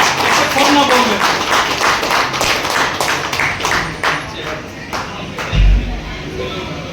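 Audience applause at a first-anniversary celebration in a café, a steady wash of many hands clapping with sharp individual claps standing out and a brief low thump near the end.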